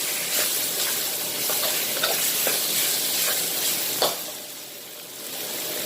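Pork and chili paste stir-fry in a pan for a Thai pork bone curry with noni leaves, giving a steady loud sizzle broken by repeated scraping strokes of the spatula.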